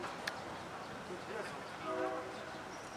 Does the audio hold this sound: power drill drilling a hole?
no